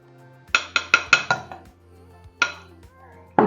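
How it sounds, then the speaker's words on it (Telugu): Ground ragi flour is moved into a bowl, marked by a rapid run of five or six bright metallic clinks, then a pause and one more clink, crisp and close against a quiet kitchen hum. "సో ఇది నేను ఒక బౌల్లోకి షిఫ్ట్ చేస్తాను."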